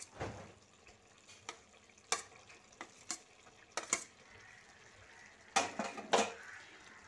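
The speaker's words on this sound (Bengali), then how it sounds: "এবার আমি এর মধ্যে ভেজে রাখা আলুটা দিয়ে দিচ্ছি।" Fried potato pieces go into a pan of cooking bottle gourd greens, giving a quiet run of light metallic clinks and scrapes of a utensil against the pan, with soft sizzling underneath and no talking.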